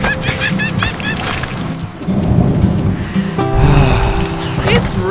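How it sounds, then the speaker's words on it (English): Heavy rain pours in a cartoon, with rumbling thunder sustained throughout, and animated voices speak over the storm. "It's raining so heavily."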